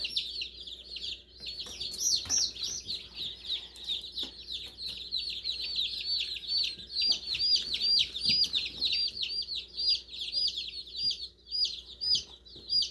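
A brooder full of newly arrived hatchery baby chicks gives off a continuous, dense chorus of high-pitched peeping, close and steady throughout with no talking.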